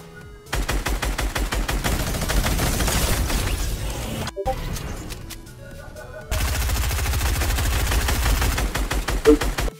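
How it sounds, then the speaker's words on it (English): A minigun fires in the Fortnite video game: a dense, rapid stream of loud shots runs for several seconds, breaks briefly, then resumes in a second sustained burst. "This guy's got a minigun."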